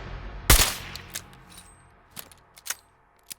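Gunshots ring out from a revolver rifle in Fallout 4. One sharp, loud crack opens the sequence, followed by several fainter, scattered shots and clicks spread over a few seconds.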